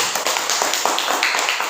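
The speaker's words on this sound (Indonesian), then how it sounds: "tepuk tangan." A classroom group breaks into applause during a group presentation, a dense stretch of quick, uneven hand claps from many people nearby, steady for the whole moment with no talk.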